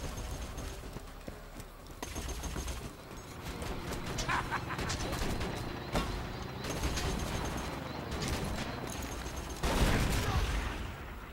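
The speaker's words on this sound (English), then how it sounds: "They just keep bombing" Ongoing bombing and gunfire in the Borderlands 2 video game, a busy stretch of overlapping shots and blasts at moderate level with a heavier boom near the end, some voice mixed underneath.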